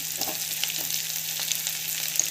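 Chana dal sautéing with salt in a hot pan, a steady close sizzle and fry with light scraping stirs throughout, no voices.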